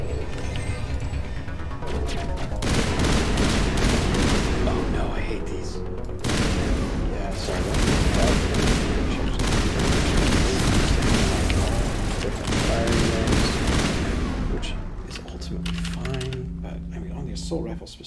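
Assault rifle gunfire in the video game Mass Effect, with loud sustained automatic bursts rattling almost continuously, broken by short gaps and ending in quieter game sounds.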